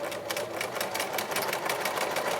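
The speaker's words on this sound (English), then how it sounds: "So now we're just going to sew from the inside piece all the way around the top and all the way around the bottom." A sewing machine stitches a fabric face mask, running steadily with a fast, even mechanical chatter, close and continuous throughout.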